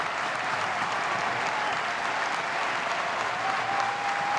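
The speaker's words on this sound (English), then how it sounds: "And already this crowd coming to its feet in Louisville." Baseball crowd in Louisville at an NCAA super regional game, rising to its feet with sustained dense applause and cheering, steady and loud throughout, distant and wide.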